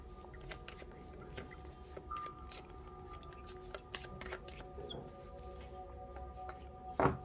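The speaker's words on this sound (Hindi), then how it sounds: "Let's shuffle again." A deck of tarot cards is shuffled by hand close by, a soft riffling flutter with rapid light slaps and ticks that ends with a sharper flurry. The sound is faint and the room is otherwise quiet.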